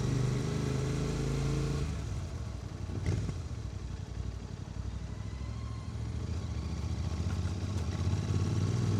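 Royal Enfield Interceptor 650 motorcycle on a scenic road ride, a steady engine drone mixed with heavy wind rush, the pitch shifting slightly partway through.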